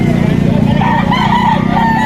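Roosters crow among many chickens at a bustling market in Lipa, a dense clucking and crowing chorus mixed with crowd murmur and nearby voices.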